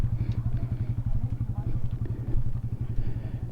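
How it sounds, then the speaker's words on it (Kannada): A group of motorcycles rides together through heavy rain near Belthangady, heading toward Koppa. A close, steady engine drone with rapid, even exhaust pulses continues throughout, with no clear talk over it. "ಎಷ್ಟು ಬೈಕ್ ಉಂಟು ನೋಡಿ."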